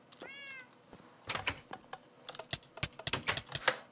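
A cat meows once, a short rising cry near the start, followed by a run of close, quiet clicks and taps like keyboard typing.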